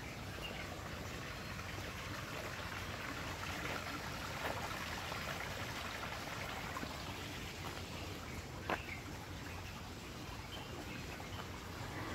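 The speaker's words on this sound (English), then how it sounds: "Oh, here's a creek." A creek flows through a wetland ecological area, giving a steady, close wash of running water with a faint trickling texture and a few brief clicks, no talk.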